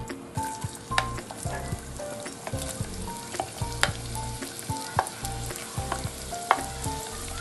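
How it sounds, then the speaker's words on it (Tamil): Onions frying in hot oil with bay leaf, stone flower and star anise for drumstick veg biryani, a steady close sizzle under frequent spatula scrapes and knocks against the pot, with no voices. "இந்த வெங்காயத்தை சேர்த்து நல்லா வதக்க ஆரம்பிச்சிடலாங்க."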